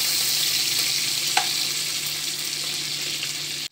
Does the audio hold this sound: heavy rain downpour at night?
no